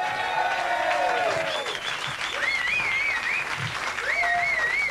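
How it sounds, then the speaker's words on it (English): A cabaret audience at the Gilded Balloon in Edinburgh in 1989 claps loudly and steadily, with shrill whistles rising and falling over the dense crowd applause. "Don't like too much applause"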